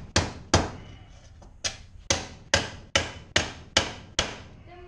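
Nails are hammered in sharp, loud, close blows: two quick strikes, a pause, then a steady run of about seven evenly spaced hits, each with a short ringing decay.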